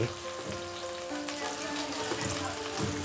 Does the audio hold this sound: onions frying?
yes